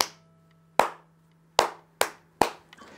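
Children clap along to a song during a drumming lesson, giving five sharp, separate hand claps in an uneven rhythm with quiet gaps between them.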